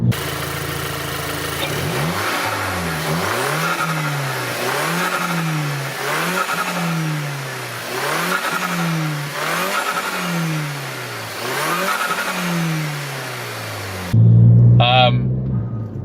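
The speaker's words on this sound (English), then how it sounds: "I'm pretty sure it's something to do with the wastegate noise off the turbo" Turbocharged 1.8-litre Audi A3 engine revved repeatedly, each of about seven rhythmic rises followed by a fluttering wastegate chatter as revs drop, loud and close, ending with a short burst of speech.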